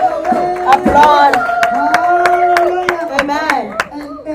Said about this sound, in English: If we can applaud for him, applaud, applaud, applaud